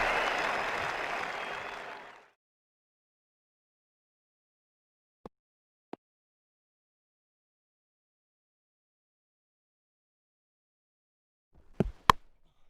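A cricket crowd at an India versus Australia Test match applauding a stroke, a dense burst of clapping that cuts off after about two seconds, then near silence with a few isolated claps and knocks.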